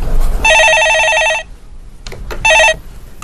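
A telephone ringing in a stock-advice call-in broadcast, two bursts of a loud electronic trilling bell, the second shorter, with a brief gap between and no speech.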